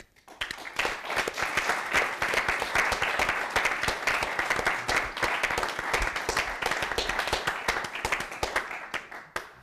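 A studio audience applauds warmly to welcome the pianist Frater Clemens Hottmann, with a sustained burst of many hands clapping at a steady even level that fades out at the end.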